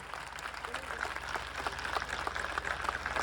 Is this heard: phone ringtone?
no